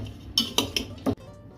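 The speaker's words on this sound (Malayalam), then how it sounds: "നമുക്കിതൊന്ന് മിക്സ് ചെയ്ത് കൊടുക്കാം." A spoon scrapes and clinks against a bowl while crushed rice and grated coconut are mixed for Kerala rice ladoo, with about five distinct, close strikes in an irregular rhythm and a quiet pause at the end.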